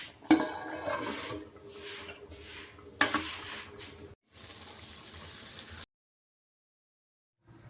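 A lid clatters onto a metal pot of seasoned rice, sharp clinks over a soft bubbling sizzle, then the cooking sound cuts out into silence.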